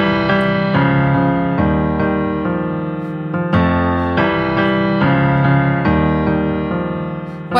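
A song outro harmonised mostly in parallel thirds, sustained bright major chords changing every second or so, loud and steady with no voices.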